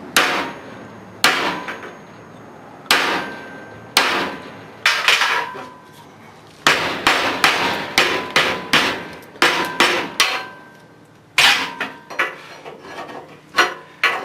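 Hammer blows drive a punch into a church bell part during repair, sharp metallic strikes coming in irregular clusters, some spaced singly and others in quick runs of several hits, close and loud with no talk.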